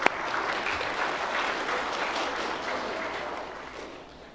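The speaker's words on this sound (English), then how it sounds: "Let's give him applause." Steady applause from a lecture audience, a dense even wash of clapping that holds for about four seconds before starting to thin out near the end, with no talking over it.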